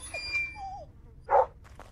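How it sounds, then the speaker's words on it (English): A dog in the video game Witch Hunt, found during a rescue, gives one short whimpering yip near the end, over soft background game ambience with faint tones earlier. "It's a doggy."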